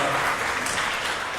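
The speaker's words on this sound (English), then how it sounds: "He does deserve a round of applause." Town hall audience applauding at a senator's Pueblo event, a dense steady wash of clapping that fills the short moment at moderate loudness with no talk over it.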